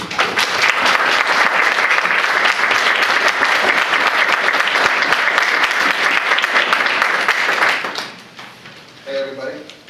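Audience applause welcoming Dr. Levine onto a stage for a conversation event, a dense, sustained burst of clapping that fades out near the end before a voice begins to speak.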